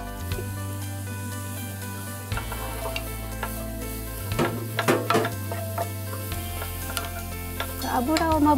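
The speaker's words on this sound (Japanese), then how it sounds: "フライパン温まったらですね、 はい、 これを炒めていただきます。 きのこですね" Mushrooms stir-fried with butter in a hot frying pan give a steady, moderately soft sizzle, broken by light scraping and clattering as they are stirred and tossed, with no talking over it.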